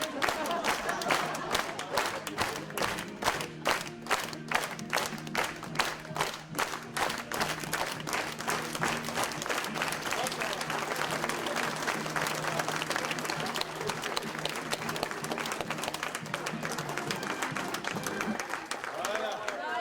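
Audience applause from a crowd at a film event, sustained and partly rhythmic, with a low steady musical hum beneath and voices mixed in throughout.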